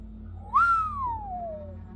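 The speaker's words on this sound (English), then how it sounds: "I whistled." A person whistles a single rising-then-falling note that sweeps up and glides slowly down, fairly clear over a steady low hum in a quiet underground chamber.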